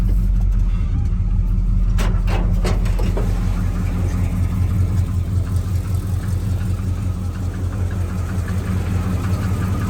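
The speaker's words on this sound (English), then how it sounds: "Motor sounds nice. Nice and ticky." A car engine idles steadily in a garage, a close low rumble with an even ticking tap running through it, a few sharp knocks early on, no talking.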